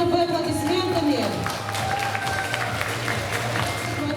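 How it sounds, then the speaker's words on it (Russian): Applause rises from the assembled crowd at a school graduation ceremony handing out certificates, as class 9B is seen off; the clapping runs steadily beneath music and some talking voices. "Провожаем 9 Б аплодисментами."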